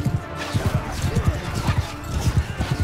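Horse hooves clip-clop in a quick, steady gallop as a rider crosses the field in Mount & Blade II Bannerlord, loud and close.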